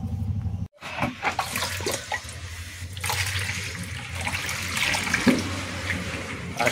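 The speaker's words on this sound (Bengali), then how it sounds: "এবার আমরা ফ্রেশ জল দিয়ে দেবো।" Fresh water poured into a container for live bloodworm and tubifex fish food, a steady close gush and splash running continuously after a brief silent break near the start.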